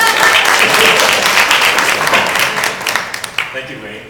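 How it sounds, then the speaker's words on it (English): An audience at an evening talk on wearables, drones and hardware startups applauds loudly. The dense, steady clapping holds for a few seconds, then fades and breaks into scattered claps. "It's okay to clap."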